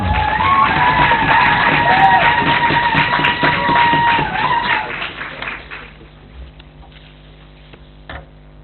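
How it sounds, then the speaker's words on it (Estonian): Dense applause from a school audience at a high school debate championship final, loud and sustained with shouts and a whistle over it, then thinning out and fading to scattered claps after about five seconds. "teeme talle suure aplausi"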